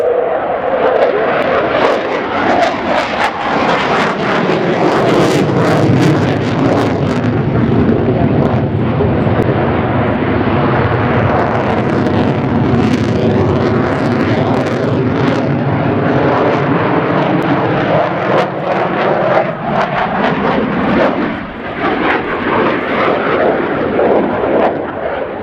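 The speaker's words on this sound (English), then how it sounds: "And one feature of this aircraft, Mark, is the Delta Canard configuration" A French Air Force Dassault Rafale C delta-canard fighter jet roars loudly and continuously during a flying display at an air show, its engine noise sweeping and shifting in pitch as it passes, with no talk over it.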